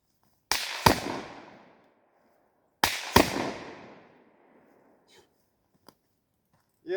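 Two black powder revolver shots, each a sharp loud crack closely followed by a second report and a long fading boom, spaced a couple of seconds apart outdoors, then a few faint clicks.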